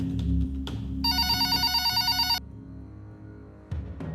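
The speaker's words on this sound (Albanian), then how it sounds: "Ambasadori shqiptar në Washington, Fatos Tarifa, merr një telefonat" An office telephone at the Albanian embassy in Washington rings, a rapid trilling bell burst lasting over a second, followed by quieter background tones and a soft click.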